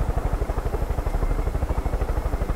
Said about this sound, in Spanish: estoy en helicóptero